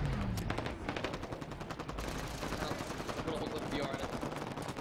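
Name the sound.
gunfire in a Halo video game match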